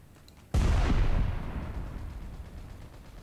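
A grenade explodes in the WW2 shooter game Heroes and Generals with a sudden heavy boom that rolls off into a long, fading rumble.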